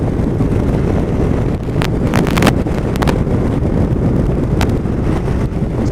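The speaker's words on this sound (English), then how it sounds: "The problem is it keeps changing direction in the wind." Strong wind buffets the microphone throughout while riding, a loud, continuous low roar with gusty rumbling and no voices.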